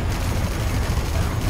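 Helix helicopter's Gatling cannon in C&C Generals Zero Hour pouring out dense, continuous rapid fire, a loud, steady low-heavy roar of overlapping shots with no break across the whole burst.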